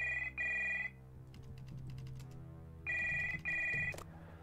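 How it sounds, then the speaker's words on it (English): In the horror video game Stories Untold, a telephone rings behind a door with two electronic bell bursts, a pause, then two more, clear and fairly close, with faint tapping and ambient hum between the rings. "Behind the door, phone starts ringing."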